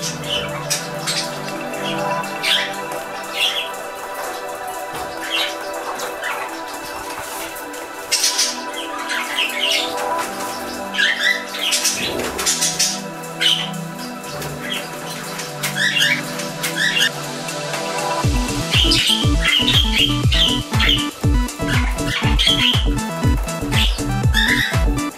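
Bourke's parakeets squawk and chirp repeatedly while bathing, with bursts of wing flapping and splashing growing louder and busier in the later part, close by indoors.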